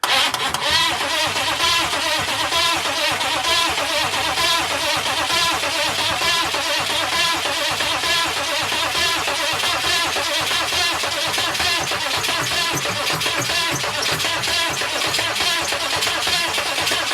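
A 6.5 turbo diesel Suburban's high-torque starter cranking the engine, a loud, steady, rapid churning drone that holds without pause for the whole stretch and never catches, up close with no voices.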